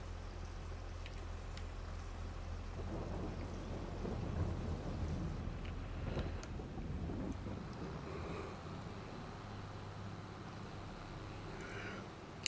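Steady rain hisses beneath low rolling thunder in a Farming Simulator farm scene, a constant soft wash with a deeper rumble swelling in the middle and no talking.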